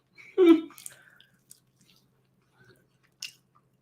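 Chewing on a jerk chicken drumstick, with one loud squishy bite near the start, a few softer smacks after it, then near silence broken by a brief wet click.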